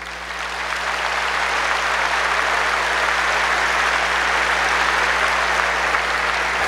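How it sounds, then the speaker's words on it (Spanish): A church audience breaks into sustained applause, a steady, full wash of clapping that swells in the first second and holds loud and even throughout. "Aplausos para el hermano."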